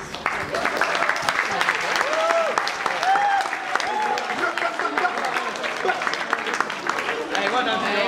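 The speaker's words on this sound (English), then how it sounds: "Lovely round of applause and thanks to you for some of your coaches" At a 2015 sports awards night, an audience gives its coaches a sustained round of applause, a continuous clatter of many hands with voices calling and whooping over it throughout.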